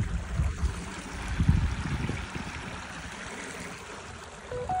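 Steady rushing and trickling of water flowing in a field channel, close by, with low rumbling gusts underneath and no voices.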